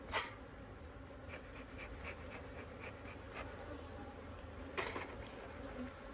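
Bees buzz steadily around an opened spring beehive in the Texas Hill Country, a continuous close drone with a few louder passes near the start and around five seconds.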